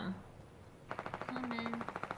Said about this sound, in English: There's gunfire down here.